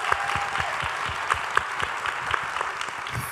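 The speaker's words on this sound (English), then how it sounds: "Please give a round of applause for them." An audience at a panel event applauds, a dense, even patter of many clapping hands that holds steady for a few seconds without pause.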